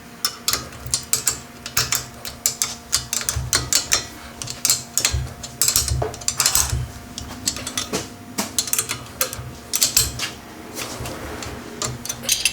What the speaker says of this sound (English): just tighten up the steering stabilizer bolt and we'll be all done with that part.